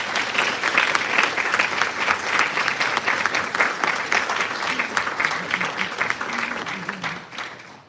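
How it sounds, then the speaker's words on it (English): Audience applauding the participants at the close of ACM Projects Presentation Night, Spring 2025, a dense, steady clapping from a full room that holds for several seconds before tapering off at the end. "A round of applause for everyone."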